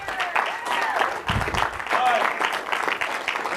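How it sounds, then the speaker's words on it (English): Audience applause breaking out after a call to clap, dense clapping from a crowd with a voice speaking over it. "Let's give him a round of applause."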